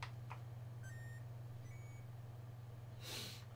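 HTC Vive VR controller powering on with short electronic beep tones, a few thin chirps over a steady low hum, faint and close.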